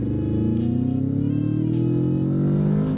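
A 2015 Kawasaki Vulcan S motorcycle pulls hard in second gear at full throttle, its engine note climbing steadily in pitch for three seconds, close and loud.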